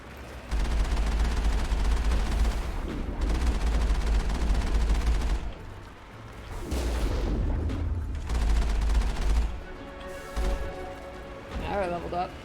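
Gunfire from the video game Mass Effect comes in long, dense bursts of loud rapid shots. Brief lulls break them up and a player's voice is heard over the action.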